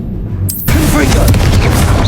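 A Confringo blasting spell bursts in Hogwarts Legacy, a sudden broadband boom that then rolls into a sustained, dense crackling roar lasting to the end.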